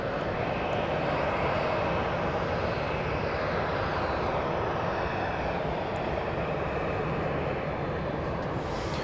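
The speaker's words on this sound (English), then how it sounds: "Flight 2587 to Atlanta, cleared for takeoff on runway 31 right" A jet airliner takes off from runway 31 right at Dallas Love Field at night, its engine roar steady and loud for the whole stretch, a broad continuous rumble with no voices.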